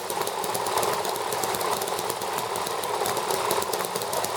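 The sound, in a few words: ET engine running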